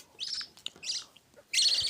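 Bright, sharp chirps from a budgerigar in short bursts, with a longer warbling chatter at the end, close by and fairly loud.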